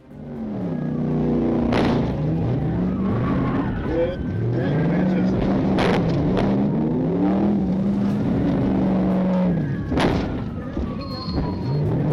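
A fleeing supercar in a police chase swings into a parking lot and accelerates away, its engine roaring loudly with repeated rising revs and gear shifts, punctuated by a few sharp thumps.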